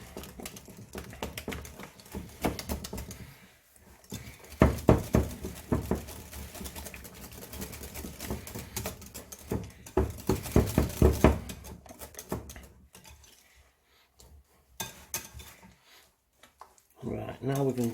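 Cheesecake batter whisked in a bowl for a baked vanilla cheesecake, a steady scraping and tapping of whisk against the bowl that comes and goes in bursts, with a voice talking over parts of it.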